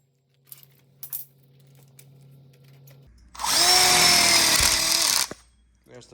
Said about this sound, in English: now we'll just go ahead and put our screws in